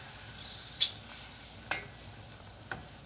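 Flour gets stirred into melted butter in a pan, a soft steady sizzle with a few faint scraping clicks of the utensil, quiet and close with no talking.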